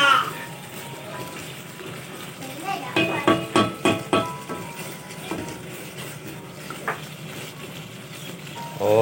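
Chicken curry sizzling and frying in oil in a pot, a steady close crackle with a cluster of sharper spits and stirring knocks in the middle, with people talking over it.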